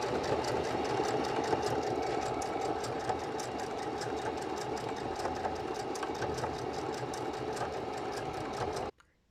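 A sewing machine hems fabric in one continuous, even run of fast rhythmic stitching that stops abruptly just before the end.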